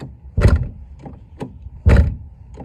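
Mercedes W126 door with deteriorating rubber seals shut twice, two solid thuds about a second and a half apart, each followed by a lighter rattle, close by with no talk.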